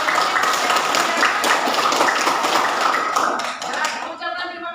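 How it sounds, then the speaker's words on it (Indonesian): A school classroom of pupils claps for about four seconds, a busy patter of hands that thins out near the end as other sounds come in. "kita berikan tepuk tangan dulu untuk"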